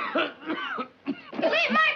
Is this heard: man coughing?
yes